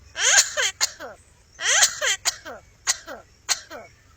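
A talking pet bird mimics coughing and throat clearing in repeated rasping bursts with falling harmonic squawks, close and fairly loud, in two clusters over a faint low hum.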